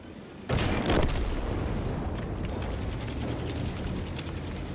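A single loud artillery cannon blast in World of Tanks, a sudden boom that rolls into a long, noisy rumbling decay lasting several seconds.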